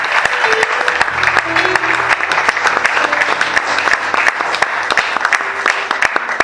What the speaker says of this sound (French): acclamons pour les bien-aimés qui sont venus pour la première fois